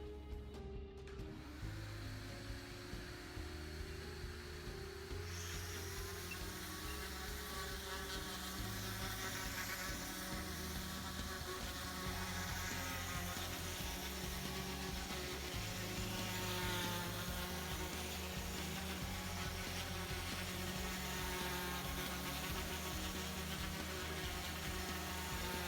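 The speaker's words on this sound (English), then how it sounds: "So just watch him sand it real quick and then we'll apply the top coat." A floor sander runs across a metallic epoxy floor before the top coat, producing a steady, buzzing motor hum that holds on without pause, after a brief quieter moment at the start.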